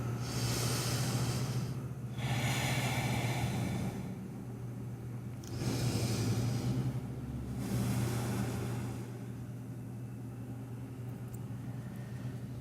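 Slow, deep yoga breaths during a vinyasa flow, long airy inhales and exhales rising and falling in broad swells over a steady low hum, close and fairly loud, with no talking.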